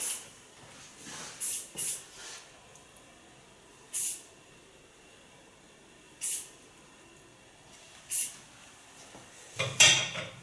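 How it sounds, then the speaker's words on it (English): Hairspray sprayed onto a styled blonde asymmetric hairstyle, heard as several short separate hissing bursts spaced a few seconds apart, with a longer, busier burst at the end, fairly quiet and with no talking. "And then I fixate it with a stronger hairspray."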